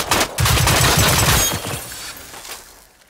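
Loud bursts of rapid gunfire from the video game Generation Zero open in a dense volley, then trail off into scattered cracking and fading debris noise.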